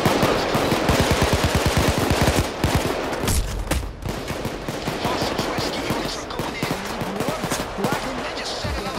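Rapid automatic gunfire from the Payday 2 video game rattles in dense, loud bursts, with overlapping shots and brief pauses, continuing steadily with faint voices underneath.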